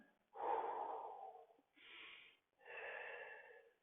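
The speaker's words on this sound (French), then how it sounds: "Encore 2 respirations" Three deep, close breaths during a stretching routine: a long first exhale, followed by two shorter breaths separated by brief pauses.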